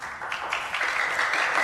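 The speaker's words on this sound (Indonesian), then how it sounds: "Udah, nggak usah pakai tepuk tangan." Scattered applause from a small group, a steady broadband patter of hands that holds evenly for under two seconds.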